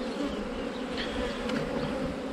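Honey bees buzzing around a hive in April during swarm catching, a dense, steady droning hum from many insects close by, continuous and even without any talk.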